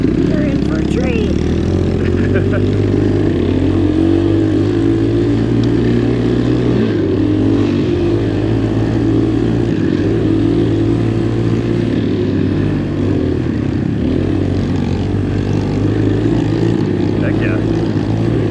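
Kawasaki KLX dirt bike climbing an off-road trail in a forest OHV area, its engine droning loudly and steadily throughout with wind noise, recorded close from the rider's perspective.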